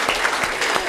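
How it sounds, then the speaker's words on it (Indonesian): Audience at a Catholic church talk show applauding a pastor, a brief burst of dense, loud clapping from many hands close by. "kita sekali lagi berikan tepuk tangan Pastor Postinus dulu."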